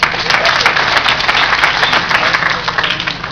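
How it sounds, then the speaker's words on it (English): Audience applause for a youth speaker at a South Texas youth leadership conference, a dense, steady wash of many hands clapping close by for the whole stretch, thinning slightly toward the end. "Let's give him a loud applause again"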